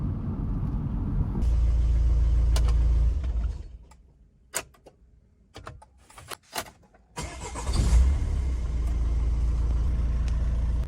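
A used 1.9-liter cabriolet's engine rumbles steadily, cuts out into near silence with a few clicks and cranking bursts, then restarts and settles back into a low, loud idle, close up with no voices.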